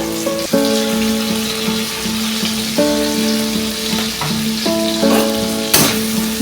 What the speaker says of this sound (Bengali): এইবার আদা রসুন বাটাটা দিয়ে দিলাম